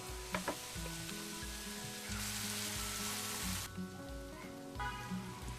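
Vegetables stir-fried with soy and chilli sauce over a high flame give a strong, continuous sizzle and crackle with occasional stirring scrapes, close and steady, and nobody speaks.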